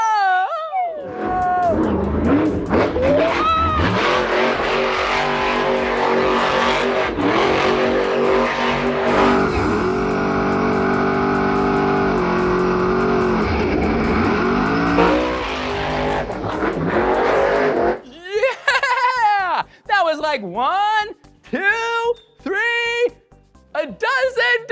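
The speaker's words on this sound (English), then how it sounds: "a dozen donuts in the monster truck around the track" A monster truck roars while doing donuts around a track, its engine loud and continuous with rising and falling revs, and excited voices follow as it fades.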